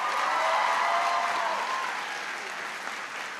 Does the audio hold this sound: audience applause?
yes